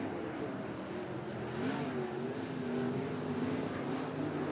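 Sprint cars race at Ruapuna Speedway, with a steady, loud roar of engines droning throughout and rising pitch as the cars push around the track.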